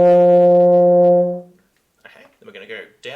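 A beginner's euphonium sustains one steady high F, a loud, even brass tone held for over a second before fading out, then a voice speaks close by.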